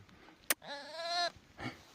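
A sheep on a farm gives one clear, close, wavering bleat, followed by a fainter short call.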